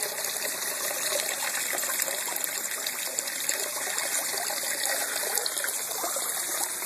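Water runs steadily through a home-made sluice box, a close, continuous trickling and gushing with no pauses and no voices.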